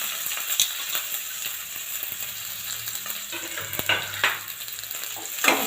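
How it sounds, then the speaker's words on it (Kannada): Mustard seeds, cumin, curry leaves and crushed onion and garlic fry in hot oil in a pan for an okra huli, giving a steady close sizzle with occasional scraping stir clicks and no talking. "ಸ್ವಲ್ಪ ಫ್ರೈ ಮಾಡೋಣ"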